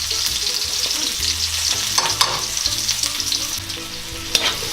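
Garlic and onion sizzle steadily in hot cooking oil in a pan, a dense close frying hiss with occasional clicks and scrapes of stirring, no voices.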